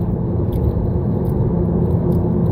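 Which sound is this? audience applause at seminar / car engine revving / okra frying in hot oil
car engine revving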